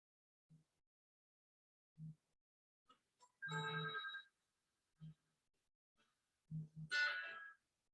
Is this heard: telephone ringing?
yes